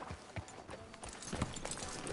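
Hooves of a horse in Red Dead Redemption 2 clip-clop in an uneven walking rhythm under a faint ambient bed, fairly quiet and without talk.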